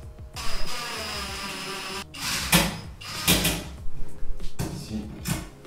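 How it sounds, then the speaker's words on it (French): Screws being driven in without tightening, a series of short bursts of power-driver whirring and clicking separated by brief pauses, close and fairly loud, with no talk. "je visse sans serrer, sans bloquer mes vis"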